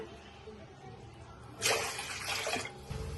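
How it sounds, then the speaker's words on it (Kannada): Two glasses of water pour into a pot to start ragi mudde, a brief close splashing gush that rises suddenly, runs for about a second and then tapers off, after a quiet lead-in. "ನೀರು ಹಾಕ್ತಾ ಇದ್ದೀನಿ."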